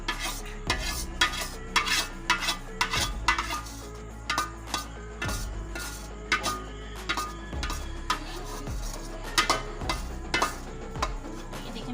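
A spoon or spatula scraping and clinking in a pan as hot sugar syrup is stirred in for soan papdi, with irregular sharp metallic taps repeating over a low steady hum.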